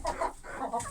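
Chickens and a rooster in an evening coop, including an Amrock, cluck agitatedly in a few short bursts, fairly faint and close by.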